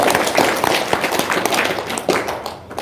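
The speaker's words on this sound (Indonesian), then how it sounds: "Tepuk tangan dong." Audience at a religious gathering applauds, a loud burst of scattered close handclaps with some taps and thumps, fading slightly at the end.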